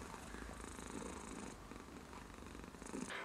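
A cat purrs steadily and softly up close, a continuous low rumbling purr with no talking.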